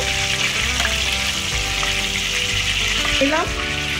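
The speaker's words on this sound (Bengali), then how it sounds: "এরকম ঠিক এই প্রসেসেই আমি বাদবাকি লোটে মাছগুলোকে ফ্রাই করব" Lote fish frying in hot oil, giving a loud, dense, continuous sizzle with occasional faint clinks and a slight tonal hum in the background.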